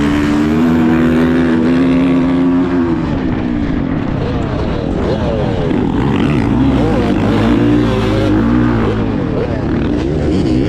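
Motocross dirt bike engine on a track at County Line MX, loud and sustained with rising and falling revs as the rider holds a power wheelie down the straight, layered with other bikes racing nearby.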